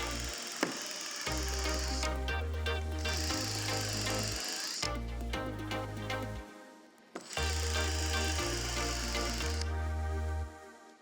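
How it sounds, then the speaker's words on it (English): A drill countersinks freshly drilled holes in a fiberglass boat deck, running in several loud bursts of a few seconds each with short pauses between, close up and with no talking. "I like to countersink the holes I just drilled"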